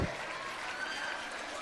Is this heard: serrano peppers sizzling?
no